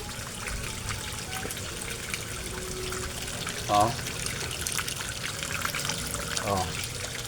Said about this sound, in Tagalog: ang lakas-lakas ng nagwa-waterfalls yung water pump ko